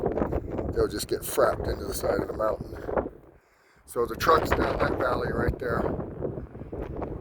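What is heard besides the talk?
strong wind on a mountain hilltop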